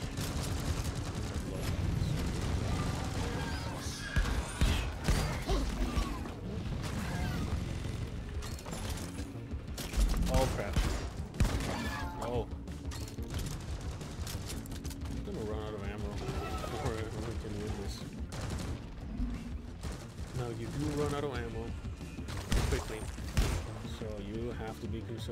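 Video game gunfire from Deep Rock Galactic crackles in dense, irregular bursts amid clanking mechanical effects and shouted game voices, a busy chaotic mix that runs throughout.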